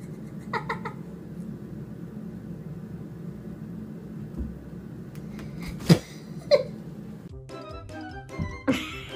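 A pet cat meows several times, the short calls rising above low background noise, with a few sharper bursts near the end.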